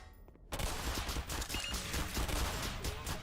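Submachine gun fire in Black Mesa rattles in rapid, sustained bursts after a quiet opening, loud and dense throughout.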